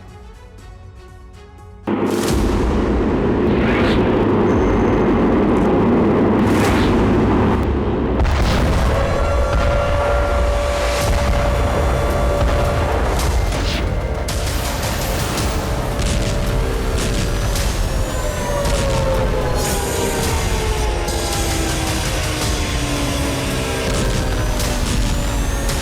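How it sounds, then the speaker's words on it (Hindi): Missile strikes and explosions in war footage: after a quiet start, a sudden loud blast opens into sustained heavy rumbling, with further booms and whistling, crackling debris over a dense roar. "आसमान से ताबड़तोड़ अंदाज में मिसाइलों से प्रहार।"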